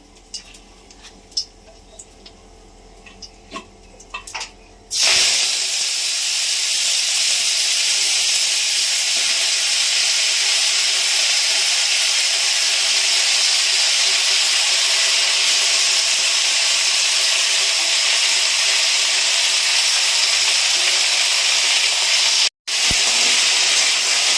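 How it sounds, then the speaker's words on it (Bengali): Cumin seeds tempered in hot oil while cooking telakucha greens, giving a loud, steady broadband sizzle that bursts in abruptly and holds nearly unchanged, with one brief dropout near the end and no talking. "এটা জিরে ফোড়ন দিচ্ছি"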